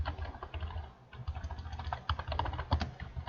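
Close, quick typing on a computer keyboard, a dense run of light key clicks with a brief pause before it carries on.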